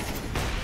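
Gunfire in a shooter video game where players use an AWP sniper rifle: a short, loud, dense burst of shots that fills the moment, with no talk.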